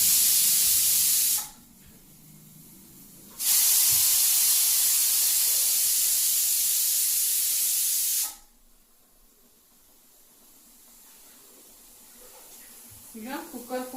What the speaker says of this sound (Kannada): ಈಗ ಕುಕ್ಕರ್ ಕೂಗ್ತು, ಸಾರು ರೆಡಿ ಆಯಿತು.